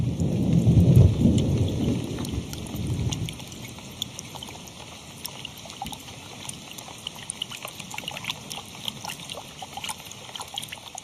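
In a rainforest, a deep roll of thunder rumbles loudly for the first few seconds, then fades, leaving steady rain with crisp scattered drops tapping on nearby surfaces.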